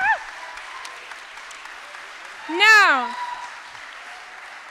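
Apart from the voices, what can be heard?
audience round of applause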